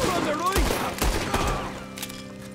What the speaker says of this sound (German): jetzt muss ich mal auf den Revolver gehen hier